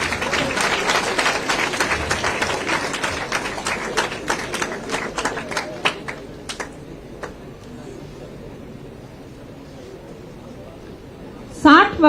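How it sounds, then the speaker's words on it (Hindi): Audience applause at an award ceremony for Hindi journalism as an honoree is invited on stage: dense clapping from a crowd that thins to scattered claps and fades over about eight seconds, leaving quiet hall ambience. "तालियों से स्वागत किया जाए।"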